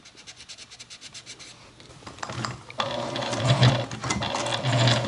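A sewing machine bastes a fabric shoulder-bag piece in place along the top edge, starting with soft handling rustles, then a steady close mechanical whir and needle patter running continuously.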